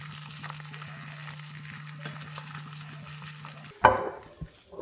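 An egg omelette fries in a pan over medium-high heat for chicken spring roll filling, giving a steady, faint sizzle over a low hum, then a louder scrape or clatter near the end.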